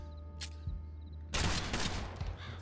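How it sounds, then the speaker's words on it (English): Video-game gunfire crackles in a dense burst of rapid shots, loud and close, after a brief single report and low rumble at the start, with no talking. "Why are you shooting? Stop shooting!"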